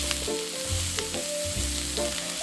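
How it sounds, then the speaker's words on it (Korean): Fish cake stir-fries over medium heat in a pan with a little minced garlic, giving a steady, close sizzle with faint stirring scrapes throughout and no voices. "중불로 줄이고 어묵 볶아줍니다."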